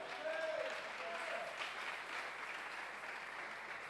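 A church congregation claps in steady acclaim of God during a sermon, sustained applause that sounds somewhat distant and even, with a faint voice briefly audible near the start.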